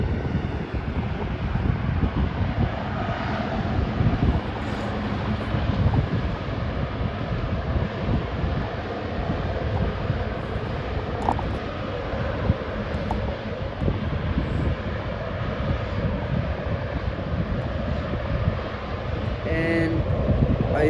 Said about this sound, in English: There we have the A380 turning